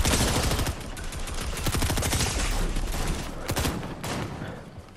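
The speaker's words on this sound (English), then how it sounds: "I'm gonna have to shoot." Gunfire in the video game Fortnite, including DMR shots, comes in rapid, loud bursts of repeated shots through the whole stretch.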